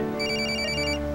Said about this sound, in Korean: 이거 전화 좀 받아줘요.